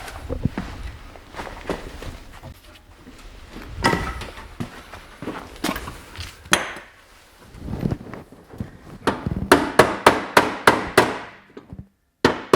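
Irregular hammer blows on metal body panel work during a BMW turbo build, some spaced and uneven, then a quick rapid series of sharp strikes near the end, close and fairly loud.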